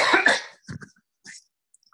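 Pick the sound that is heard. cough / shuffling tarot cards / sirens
cough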